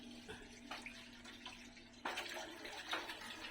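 Liquid from grated coconut pours and trickles through a strainer into a pan on the second squeeze, a steady watery splashing with a louder burst midway, close by with no talking.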